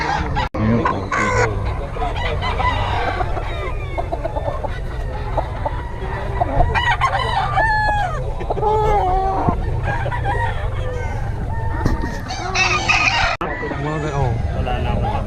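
Chickens and roosters, gamefowl kept on a farm, crow and cluck over one another in a busy, continuous chorus close by, with people talking among the birds.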